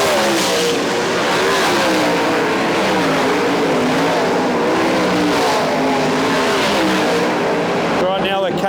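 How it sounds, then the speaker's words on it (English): Sprint car engines roar and rev on a cold night at Warrnambool during hot laps and time trials for the Grand Annual Sprint Car Classic. It is a loud, continuous, dense engine drone that swells and falls in pitch throughout. "engine starts with the sprint cars"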